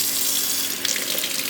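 Cold water gushes steadily from a kitchen tap into a dish in the sink, a loud, close, continuous hiss and splash with no break and no voices.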